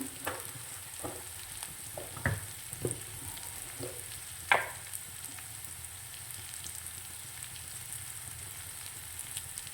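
Jackfruit seed pasta sizzling in butter in a pan while turmeric and salt are stirred in, a soft steady fry with occasional spoon scrapes and taps against the pan, close and quiet.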